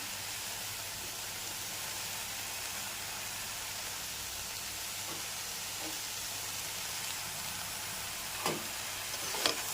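Purple cabbage and grated coconut sauté in a hot pan for a thoran, giving a steady, even sizzle and hiss throughout with a couple of faint stirring clicks near the end.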